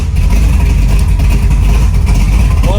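A 1972 Chevy Nova's big block V8 runs loud and close, a steady rumbling idle with a constant throaty drone and no break throughout.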